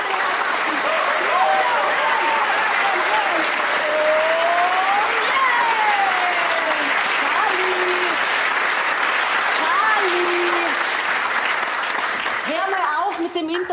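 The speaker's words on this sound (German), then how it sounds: "Applaus, Applaus" An audience at a Bavarian comedy stage play breaks into long, continuous applause, dense and even throughout, with a voice talking over it intermittently and the clapping tapering near the end.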